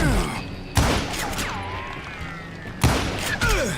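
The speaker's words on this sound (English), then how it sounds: "Oh, shit! We're under fire!" Gunfire in the Western shooter Call of Juarez Gunslinger comes as two heavy, loud blasts a couple of seconds apart, with ricochet whines and game effects in between and faint voices around them.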